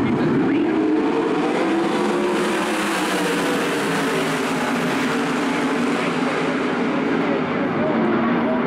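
Sprint cars with 410 engines roar around the Port Royal Speedway dirt oval in a heat race, a dense, continuous engine drone filling the track, loud and steady throughout with crowd noise and a faint voice mixed underneath.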